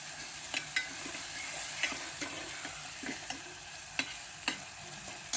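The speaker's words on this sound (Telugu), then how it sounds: "ఉల్లిపాయలు వేగినాయి. ఇప్పుడు అల్లం వెల్లుల్లి పేస్ట్ వేసినాను అనమాట." Onions and ginger garlic paste fry in a pan with a soft steady sizzle, broken by irregular light taps and scrapes of a stirring spoon, close and quiet, with no talking.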